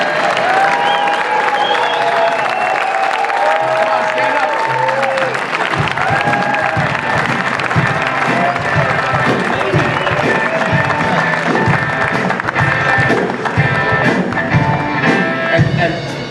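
A conference crowd applauds standing President's Club winners, loud sustained clapping mixed with cheering and voices over the top throughout.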